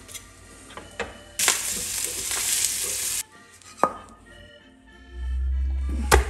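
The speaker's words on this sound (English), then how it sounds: "Melt butter in a hot pan and cook the shallots until melted." Butter sizzles in a hot pan as shallots and garlic cook, a broad hiss rising loud for a couple of seconds then easing, with scattered clicks and stirring knocks and a low hum near the end.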